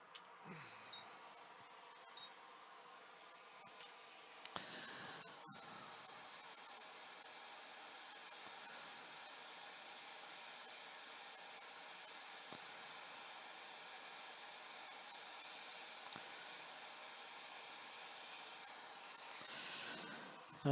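Hot air from a rework station blows steadily across flux on the HDMI port pads of an Xbox One circuit board, a continuous close hiss that runs almost unbroken for about twenty seconds with only brief dips.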